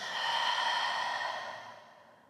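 A long, steady exhale through the nose or mouth during a yoga flow, heard close and alone as a soft breathy rush that swells and then slowly fades out.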